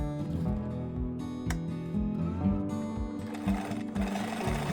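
A home sewing machine stitches face mask pieces, sewing along a curved edge with a quarter-inch seam allowance. Its needle thumps in a rapid, even rhythm, with a brief pause and restart, close and steady.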